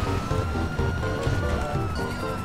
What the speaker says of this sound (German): Wie mach ich diese scheiß Sirene aus